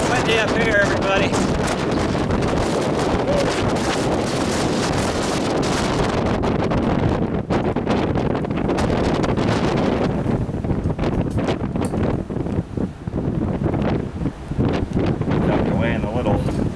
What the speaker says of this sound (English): Yeah, it's a little windy up here, everybody.